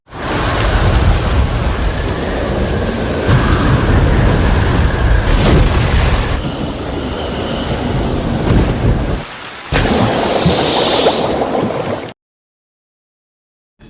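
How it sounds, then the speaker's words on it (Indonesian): A violent storm from the film Cast Away rumbles with continuous heavy rain and rolling thunder, loud and dense throughout, with a sharp crack near the end before it cuts to silence. "hanya menyisakan Chuck seorang diri yang harus terombang-ambing di tengah amukan badai yang terjadi saat itu"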